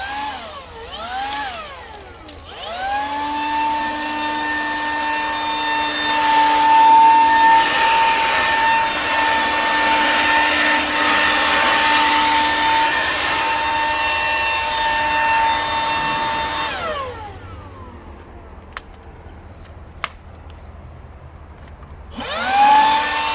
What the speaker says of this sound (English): I am the one that's handling the Makita air blower in the video that you're about to see